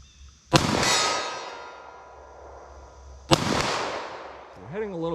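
Two loud .40 S&W pistol shots fired at a 50-yard target outdoors, each a sharp crack with a long ringing echo, spaced about three seconds apart, followed by a voice starting to speak.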